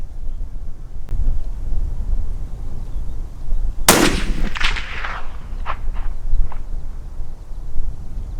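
A single loud shot from a Christensen Arms 300 PRC rifle firing 225 ELD-M factory ammunition at an outdoor private range, a sharp blast followed by a ringing echo that rolls away, with wind rumbling throughout.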